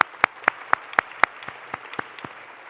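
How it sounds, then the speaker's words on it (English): A handful of claps ring out from an audience at a White House heritage celebration, about ten sharp, evenly spaced hand claps at a steady rhythm, fairly near and tapering off in strength. "Yes, we could applaud."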